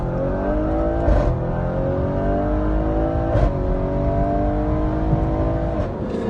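Audi RS6 tuned to 750 bhp accelerating flat out on a runway, engine note climbing in pitch through several gear changes, loud and close with brief breaks at each shift.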